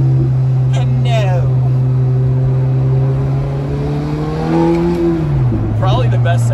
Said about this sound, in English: Probably the best sounding stock car I've ever been in.